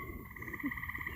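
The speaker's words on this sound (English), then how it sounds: "I apologize for them tree frogs" Tree frogs croak outdoors in the countryside as a steady, pulsing chorus. The rhythmic trills repeat continuously through the whole stretch at a moderate, fairly distant level.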